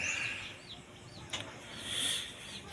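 Backyard chickens on a Filipino farm cluck softly after feeding, with a few faint rising calls over steady outdoor ambience and no speech.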